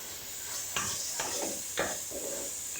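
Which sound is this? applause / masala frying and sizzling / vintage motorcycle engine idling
masala frying and sizzling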